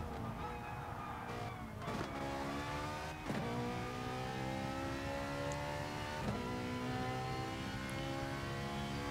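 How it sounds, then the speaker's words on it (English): Race car engine in a racing video game, loud and continuous, with steady engine tones shifting through rising revs and several sharp gear changes, heard alone without talk. "Is the sound, the engine sound now loud enough"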